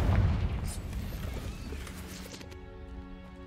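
Confringo explosive spell cast in Hogwarts Legacy at a spider nest: a loud, deep burst at the start that rumbles and fades over a few seconds, leaving a lingering ringing tail.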